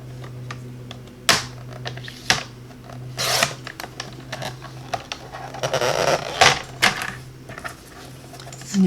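Paper trimmer cutting a card strip to one inch, with a few sharp slicing rasps and rubbing scrapes over a steady low hum, close by, with no talk.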